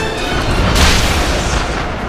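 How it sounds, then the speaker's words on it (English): A deep, loud boom with rumbling low-end blast fills the clip, sustained and heavy like a cannon shot echoing outward. "Mulan tilted the cannon and fired at the mountaintop."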